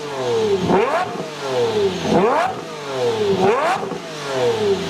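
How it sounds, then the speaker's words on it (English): Lamborghini Murcielago engine revving three times in a row, each rev a sharp rising snarl that peaks and drops back, close and loud with no talk. "Here's a Murcielago revving"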